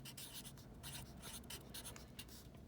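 A pen writes an address on an envelope, making a soft, close-up scratching that comes in quick repeated strokes with brief gaps between them.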